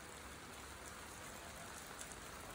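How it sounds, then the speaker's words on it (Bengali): Heavy rain falls steadily during a downpour in Bangladesh, a continuous, even hiss of drops on surfaces, fairly faint and with no voices. "প্রচন্ড বৃষ্টি হচ্ছে, তাও একটু লিমিটের ভিতরে আছে, বেশি জোরে হচ্ছে না।"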